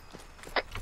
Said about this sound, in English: I can hear their footsteps.